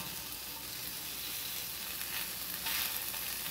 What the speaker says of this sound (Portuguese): Ó, deixa o bichão fritar.